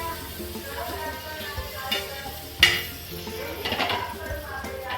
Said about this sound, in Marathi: छान असं काही फ्राय करून घ्यायचं आहे आपल्याला.